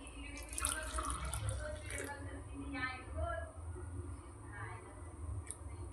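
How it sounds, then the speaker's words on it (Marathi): Hot milk is poured from a pan into a container in a home kitchen during tea making, a steady close trickle and splash running for several seconds while a voice speaks briefly in the background. "आता हे दूध आहे ना ह्याच्यात ओतायचंय."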